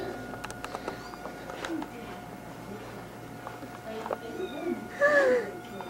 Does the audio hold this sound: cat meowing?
yes